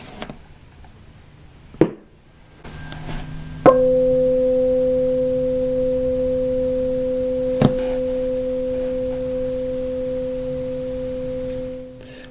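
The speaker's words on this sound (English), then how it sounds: "You'll hopefully be able to hear the hum as well through the microphone." A struck tuning fork rings out after a sharp metallic strike, settling into a steady sustained pure hum that holds for several seconds and fades at the end, with a second light tap midway.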